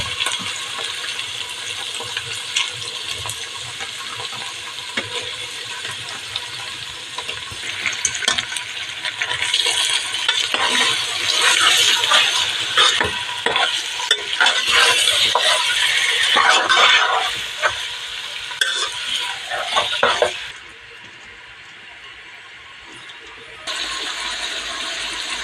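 Chicken pieces dropped into a pan and stirred while cooking for a masala soup, giving sizzling and clattering stirring sounds that rise and fall, then quiet down near the end.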